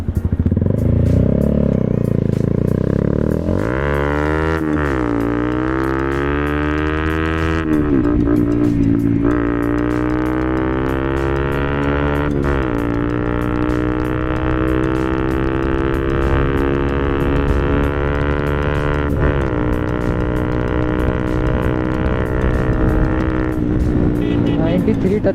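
Bajaj Pulsar motorcycle engine revving and pulling hard past 90 km/h on a road, with a loud, sustained exhaust note that rises through gear changes and holds steady for a long stretch.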